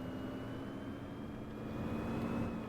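A Gillig Advantage city bus engine in the Rigs of Rods driving game, a quiet steady mid-pitched hum with a faint whine, rising slightly toward the end.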